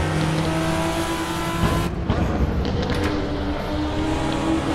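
Ferrari race car in a racing video game roaring past with a loud, high-revving engine note, a sharp gear change midway, then the engine pulling away under steady track noise.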